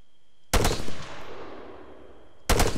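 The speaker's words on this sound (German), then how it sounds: "Und dann schießt man das Fahrzeug mal kaputt." Machine-gun fire with tracer ammunition in the Arma 3 shooter, a loud close burst that starts abruptly, decays into a ringing tail, then resumes with another sharp burst near the end; no voices.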